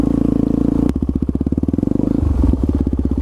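A supermoto motorcycle engine chugs loudly up close in a rapid, pulsing idle-to-low-rev rhythm, with a sharp clack near the start and a brief rev and shift in tone toward the end, no talk.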